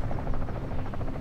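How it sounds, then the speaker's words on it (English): A helicopter in the video game Call of Duty DMZ drones with a steady low rotor buzz, moderately loud and continuous throughout, with no voices over it. "That's three helicopters"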